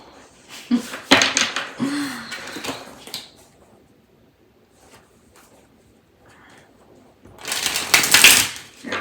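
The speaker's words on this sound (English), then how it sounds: "so let's give this a few good shuffles" Crisp riffling bursts of a tarot deck being shuffled, a couple of quick shuffles separated by quieter handling sounds.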